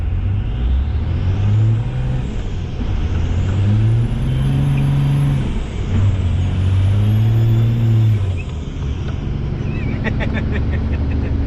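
A white dually pickup truck accelerates hard through its gears with the tires spinning, its engine loud and close as the revs climb and fall in repeated surges.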